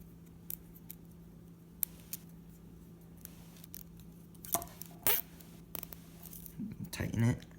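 Scissors snip through plastic zip ties on a homemade tri-fidget spinner, giving a few sharp close cuts and clicks with light handling noise between them, then a louder burst of snipping and rustling near the end.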